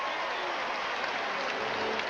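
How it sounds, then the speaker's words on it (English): Baseball crowd at a 1997 Pirates versus Phillies stadium game, a steady wash of cheering and applause filling the stands, broad and even, with commentary voices underneath. "Fans are cheering"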